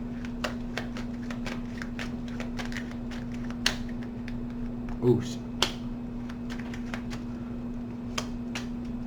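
Tarot cards being shuffled close up, with soft riffling and scattered light clicks over a steady low electrical hum, while someone speaks quietly.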